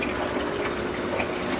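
Deep well water filling a tank, a steady close rushing pour with a continuous bubbling hiss.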